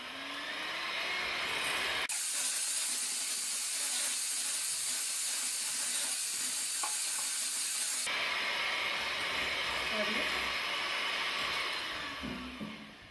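Electric hand mixer whirring steadily on high speed as it beats a sweet mixture, a loud continuous hiss-like drone that runs unbroken with no talk.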